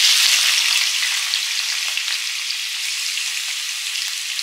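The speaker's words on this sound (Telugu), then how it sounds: "ఇప్పుడు ఆయిల్ హీట్ అయిపోయిందండి. మనము ఈ ప్రాన్స్ ఇందులో యాడ్ చేసుకుందాం." Prawns frying in hot oil give a steady, loud, dense sizzle that crackles continuously and eases off only slightly over the few seconds, with no talking.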